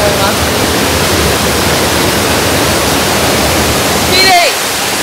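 Constant loud roar of water falling into a waterfall plunge pool in Kochi Prefecture, Japan, fills the whole clip, steady and close, with a brief tonal chirp near the end.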